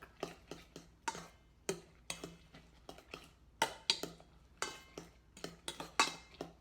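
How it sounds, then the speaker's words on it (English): A fork mixing blueberries into pancake batter in a bowl, repeated quick clinking taps against the dish in an irregular rhythm, close and fairly quiet with no talk. "I'm just going to add them in and mix it together again with a fork"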